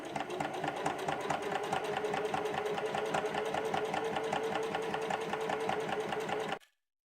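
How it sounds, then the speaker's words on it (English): A sewing machine with a regular presser foot top-stitches down the edge of a slanted clutch bag, a steady rapid mechanical whir running continuously at close range before stopping abruptly near the end. "Make sure you switch to your regular foot and then top stitch down this edge."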